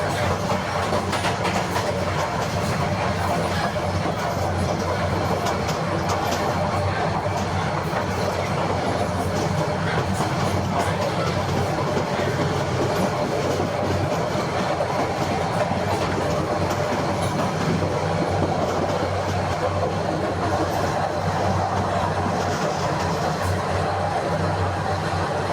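The Sundarban Express from Dhaka to Khulna rumbles along steadily from inside a carriage, a continuous loud roll with rhythmic wheel clatter and occasional squeals, a low hum running underneath throughout.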